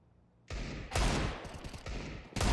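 Rapid bursts of gunfire from a Counter-Strike style competitive shooter, pistols such as Deagles and Five-SevENs, firing in loud clustered volleys with short gaps, the last burst starting abruptly near the end.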